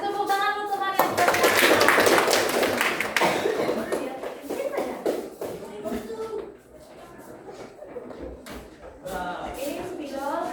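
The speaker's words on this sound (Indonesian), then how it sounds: "Kasih tepuk tangan untuk teman yang sudah" Applause in a classroom: a burst of hand clapping from a group of students, loud at first and then thinning into scattered claps and shuffling, with a teacher and pupils talking over it.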